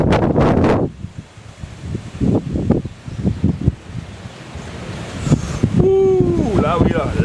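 Strong cyclone winds from Batsiraï roar steadily over the whole stretch, with gusty rushing noise and microphone buffeting, while people talk over it and a brief whistling tone rises near the end.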